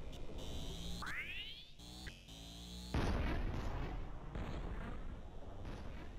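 Gunshot in the PC video game Urja: a sharp blast with a rising whine, then a louder burst of explosive noise that lingers over steady game sound.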